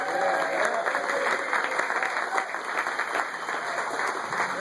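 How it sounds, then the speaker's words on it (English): Indoor crowd at a Kansas City tournament applauds the band, cheer and dance teams with sustained, dense clapping that stays loud and even, with faint voices mixed in. "I think we should give a big hand to our band, cheer, dance that are all here today."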